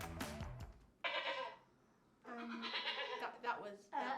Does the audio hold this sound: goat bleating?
yes